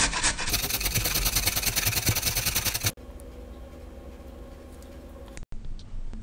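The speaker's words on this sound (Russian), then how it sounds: "Натираем морковку на мелкой терке." Fast, rhythmic rasping strokes of carrots being rubbed against a fine grater, loud and close, stopping abruptly, then quieter handling noises follow.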